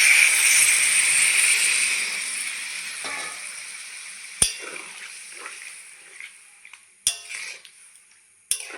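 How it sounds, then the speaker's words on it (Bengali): Water poured into a hot pan of papaya and potato curry gives a steady hissing, rushing sound for about two seconds that then fades, followed by scattered clinks and taps of a spoon and pan, with no talking. "এখন দিয়ে দেবো জল। দিয়ে দিচ্ছি জল।"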